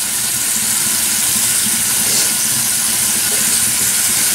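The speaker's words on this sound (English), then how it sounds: "I just got my steamer going." A facial steamer gives a steady, loud, broadband hiss that holds at an even level from start to finish, with nothing else audible over it.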